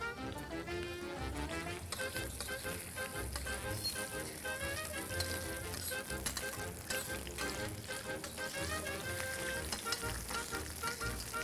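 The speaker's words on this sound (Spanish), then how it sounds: "Dorando bien el ajito." Prawns and garlic fry in a pan as part of a seafood pasta, giving a steady, close crackling sizzle that carries on unbroken for several seconds with no voice over it.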